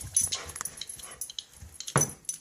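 A dog whimpers indoors at home, giving soft, high, broken whines and yips in short bursts, with one sharper cry near the end and quiet pauses between.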